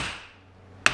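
A hammer strikes a Dodge Ram CV axle intermediate shaft once: a single sharp metallic tap near the end after a quiet stretch.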